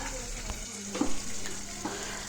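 Chickpeas fry with spices and potato beside browning onion in a home kitchen pan, giving a short, steady sizzle with light stirring scrapes.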